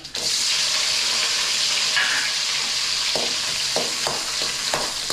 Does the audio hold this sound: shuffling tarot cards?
no